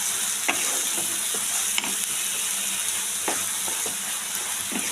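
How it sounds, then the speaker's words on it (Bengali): Spinach paste and spices frying in a pan for palak chicken, a loud continuous sizzle with scraping stirs and sharp utensil clicks at irregular intervals. "এটা একটু ভাজা ভাজা হলে এতে দিয়ে দেবো আমি মশলা আর পালং শাকের পেস্টটা"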